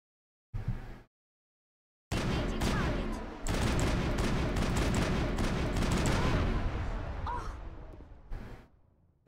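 Rapid bursts of shotgun fire in the Mass Effect video game, one short blast followed after a pause by a long, dense volley that gradually fades out.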